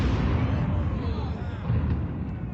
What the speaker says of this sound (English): It was brought down by a series of explosions, clearing the way for a brand new bridge that Beshear says